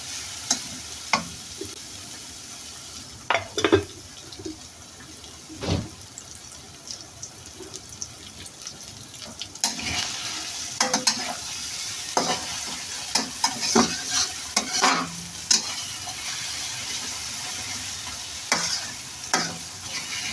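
Preserved radish is stir-fried in a wok, with a steady sizzle and repeated scraping, clanking strokes of a spatula against the metal, close up and irregular, with some splashing water sounds mixed in.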